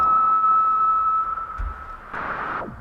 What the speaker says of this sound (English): it's just basically white noise that you can send through the filter